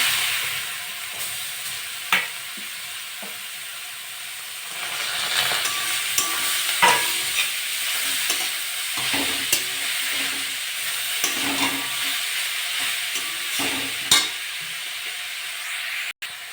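Papaya pieces fry in hot mustard oil, hissing and sizzling steadily throughout, with occasional clicks and scrapes from stirring.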